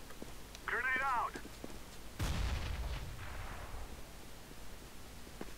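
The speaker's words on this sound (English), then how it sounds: "Grenade out." A grenade detonates in Counter-Strike: Global Offensive as a single loud, close boom with a deep rumble that fades over a few seconds, following a brief tonal game sound.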